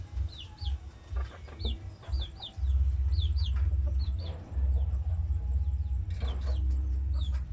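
A rooster crows repeatedly at a farm, several high calls spread across the clip over steady low background rumble, with other fowl clucking nearby.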